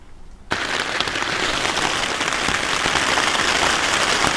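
Heavy rain from a full-on Welsh thunderstorm drums on a DCF tent, starting abruptly after a brief quiet moment and then holding as a dense, loud, steady patter with no voices.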